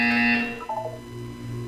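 A loud, harsh electronic buzzer from the game Portal 2 sounds for about half a second, then cuts off, leaving a low hum and a few faint tones behind it.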